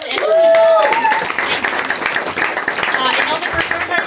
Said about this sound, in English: Another applause for Morgan